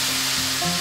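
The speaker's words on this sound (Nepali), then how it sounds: "अब यो दुवैलाई यसमा राखिदिउँ यसलाई पनि मिक्स गरिदिउँ" Ginger and garlic sizzle loudly in a hot pan as they are stirred in, a dense continuous frying crackle with faint scraping, no voices over it, while a taro root and taro leaf curry is being made.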